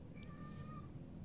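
A small house cat lets out one short, rising meow near the start, fairly close and clear, over a low background hum with no one speaking.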